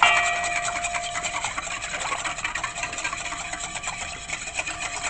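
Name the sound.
whisking melted butter into vegan biscuit batter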